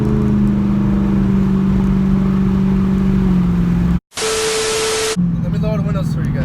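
A car engine drones steadily while driving and rises in pitch as it accelerates, then cuts out briefly. A burst of harsh broadband noise follows before the engine hum returns.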